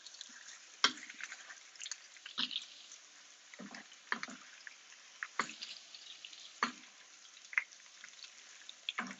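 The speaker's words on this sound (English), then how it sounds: "Okay, now this is frying up." Bacon fries in a pan with a soft, steady sizzle broken by sporadic sharp pops and crackles, quiet and close, with no voices.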